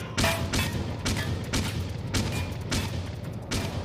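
A tank's 25mm cannon booms in a steady series of about eight rounds, each a loud sharp blast spaced roughly half a second apart.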